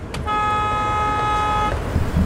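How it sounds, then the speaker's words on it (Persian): A single long, steady car horn blast holds for about a second and a half, loud and close, with a short stretch of traffic noise before and after. "بیا اینم بوق، بیا."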